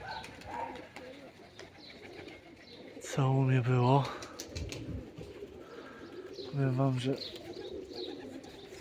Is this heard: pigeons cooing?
yes